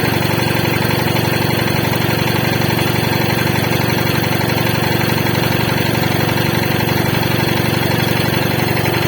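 A homemade air compressor running continuously, a loud, steady motor drone with a constant rattling hum and no change in pitch, no talking.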